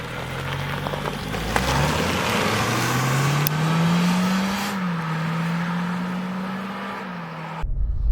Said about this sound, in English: driving the Honda Jazz Crosstar EHEV. It's so smooth.